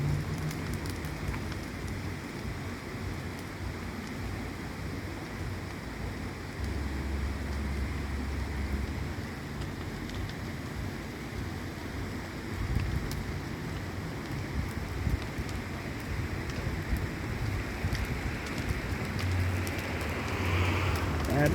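Carnival bonfire of branches and brambles in a village lane, burning steadily with a dense continuous crackle and hiss, fairly close and unbroken for the whole stretch, with no talking.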